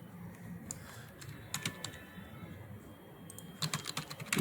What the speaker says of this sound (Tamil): இப்போ நான் தமிழ் ஃபாண்ட் லதாலே டைப் பண்ணுறேன்.